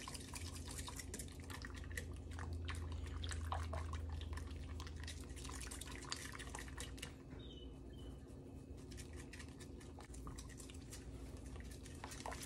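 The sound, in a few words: whisking powdered milk into liquid for oat milk honey soap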